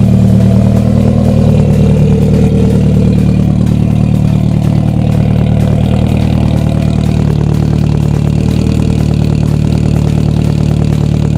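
A Nissan 240SX runs with a straight-pipe exhaust, a loud, close, steady engine drone with a deep throaty rumble and no speech.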